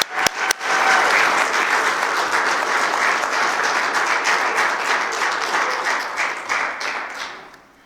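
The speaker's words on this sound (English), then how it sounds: "he deserves a huge, huge round of applause, and let's welcome him" An audience gives a warm round of applause to welcome a keynote speaker at an art exhibition, a few sharp first claps swelling into dense, sustained clapping that fades away at the end.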